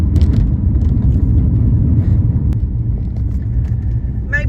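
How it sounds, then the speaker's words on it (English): Road noise inside a moving car, a loud, steady low rumble throughout, with a faint rattle near the start and a brief higher sound at the end. "Sorry for the road noise"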